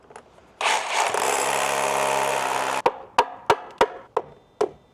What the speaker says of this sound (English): take our hammer drill and drill our other top hole